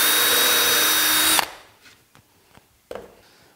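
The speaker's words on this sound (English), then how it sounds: "I've switched over to a larger pilot drill" A power drill with a pilot bit spins at high speed for a second and a half on the underside of a sled, then stops; a few light knocks and taps follow in the quiet.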